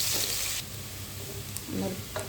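Chopped onions sizzle and fry steadily in hot oil in a pan, with scraping stirs of a spatula breaking through now and then, close and fairly loud with no talk.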